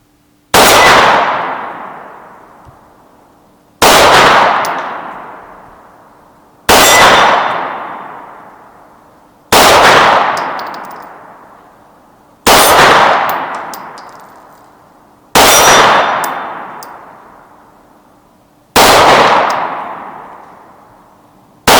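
Seven loud metallic clangs from 9mm rounds fired from an FN 509 pistol striking a steel gong target at a range, evenly spaced about three seconds apart, each ringing out and decaying before the next, with no talking.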